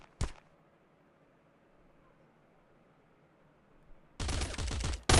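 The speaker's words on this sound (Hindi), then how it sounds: "भाई गोलियां किधर से चल रही है मुझे समझ में नहीं आ रहा है।" Gunfire in a multiplayer survival video game: a sharp burst of gunfire opens, followed by quiet hiss, then a sustained loud volley of rapid automatic shots near the end.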